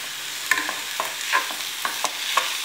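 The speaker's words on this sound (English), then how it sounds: "Once the oil is heated, we will add onion." Onion sauteing in hot oil in a pan while cooking egg masala, a soft continuous sizzle with scattered light scrapes and clinks of stirring, close and moderately quiet, with no voices.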